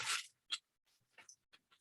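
Aluminum foil crumpled by hand in a quiet room: one loud crinkling burst, then several shorter, fainter crackles spaced apart as the sheet is squeezed into shape.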